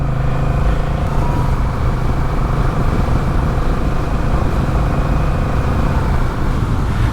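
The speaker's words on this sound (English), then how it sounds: "We're in standard, first gear, pull away, and it short shifts its way through the box very quickly." A Honda CMX1100 Rebel motorcycle pulls away in first gear and short-shifts quickly up through the gearbox, its engine a steady loud rumble close by with no talk over it.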